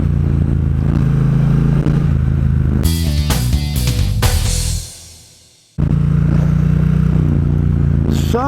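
A Triumph Bonneville Bobber motorcycle engine running with a steady loud rumble, interrupted by clattering revs, a sudden cut to near silence, then the engine resuming strongly.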